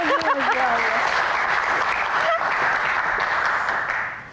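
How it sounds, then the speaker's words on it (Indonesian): Studio audience applause on a talk show, a dense, loud round of clapping that holds steady for several seconds before tapering, with a brief voice at the start. "Tepuk tangan buat Gian, spesialis fact check kita."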